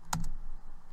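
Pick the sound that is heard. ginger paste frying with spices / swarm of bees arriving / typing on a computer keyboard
typing on a computer keyboard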